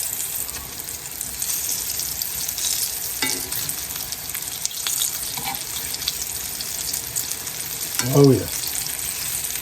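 Squirrel meat fries in a pan outdoors with a steady, crackling sizzle across the whole span, broken by a few clinks as pieces are flipped; someone speaks briefly near the end.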